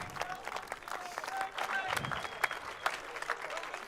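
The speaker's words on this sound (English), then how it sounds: "would you please give a big round of applause to P3 in Coperchel" Applause for the driver who took third place at a Ferrari Challenge UK race at Navarra, with scattered clapping and crowd noise under faint background voices.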